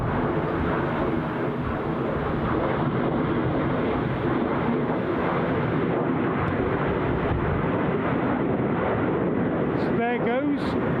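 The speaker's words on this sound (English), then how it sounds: "There goes our going around Air France Embraer" An Air France Embraer jet going around at Newcastle Airport on a windy day, its loud, steady engine roar filling the whole stretch, with a brief voice near the end.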